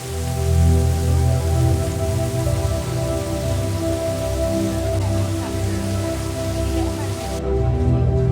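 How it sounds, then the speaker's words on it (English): Tropical downpour pounding steadily in Patong Beach, Phuket, a dense, continuous hiss of rain on surfaces with a low background hum, holding even and loud throughout. "especially when you get the occasional tropical downpour"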